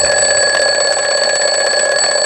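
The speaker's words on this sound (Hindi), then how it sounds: "alarm has gone of" An electronic alarm goes off with a continuous, loud, steady high-pitched ringing tone held for the whole stretch, alone with no voices.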